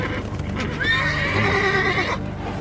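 Carriage horses whinny loudly and close by while hooves clip-clop in a steady rhythm underneath, a short burst of neighing over the hoofbeats.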